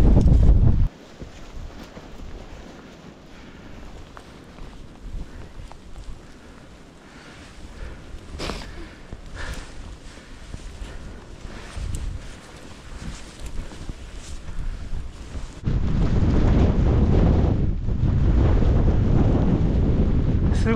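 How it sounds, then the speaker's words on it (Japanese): Strong wind roars across a snowy mountainside on Mount Daisen, buffeting the microphone in heavy low gusts that ease for a stretch, then surge back loud and close near the end; no talking. "すごい風"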